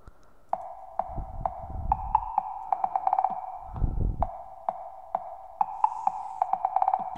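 Electronic synth pluck drop, bright rhythmic plucked notes in a syncopated pattern with a kick-like low thump underneath, clean and alone.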